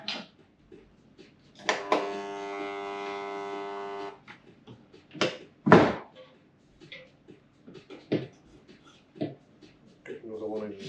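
A power driver buzzes briefly while sinking tech screws into a companion bin's ashtray section, one short steady burst amid quiet taps and handling knocks.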